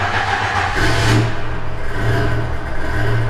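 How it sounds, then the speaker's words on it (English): A large 12-cylinder car engine rumbles and revs up close, a deep throaty roar rising in a surge and then settling into a loud idle. "Oh my, that's a 12-cylinder engine."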